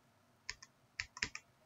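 A few quick, quiet keystrokes on a computer keyboard with a problematic keyboard while entering a package install command, sparse taps spread over under two seconds.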